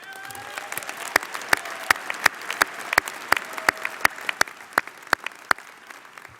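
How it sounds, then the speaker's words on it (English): A crowd at a university commencement ceremony claps steadily, a dense patter of many hands with sharp individual claps standing out, heard from a moderate distance. "Give yourselves a round of applause."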